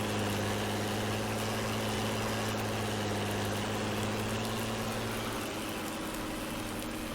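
A tractor engine idles in Farming Simulator 19, a loud, steady droning hum with a constant low throb and no voices.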